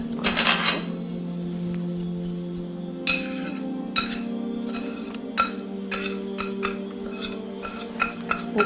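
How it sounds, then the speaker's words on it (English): A spoon clinks and scrapes against a bowl as spices are stirred into yogurt for a prawn curry, with irregular light taps over a steady low background hum. "you've got to mix the spices into the yogurt"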